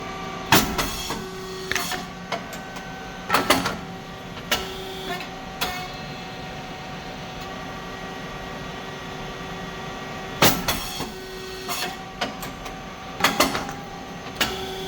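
SYP9502 rice cake machine with titanium-coated 95 mm round moulds running steadily, a mechanical hum broken by repeated sharp pops and hisses as cakes are puffed at irregular intervals.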